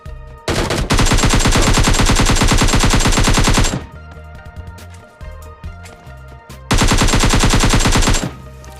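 Gunfire in a battle royale video game erupts as two long, loud bursts of rapid automatic shots, separated by a stretch of scattered single shots and game noise.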